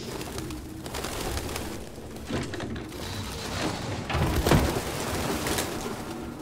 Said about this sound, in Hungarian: Galambok mindenhol.